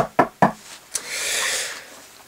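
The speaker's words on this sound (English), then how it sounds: "knock on wood." Three sharp knocks on wood in quick succession, then a lighter tap and a soft rubbing brush, close and dry, with no talking.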